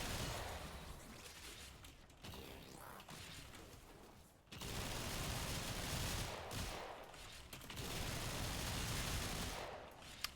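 Rapid weapon fire in the video game Warframe, dense sustained bursts of gunfire broken by brief pauses, loud and continuous across the stretch.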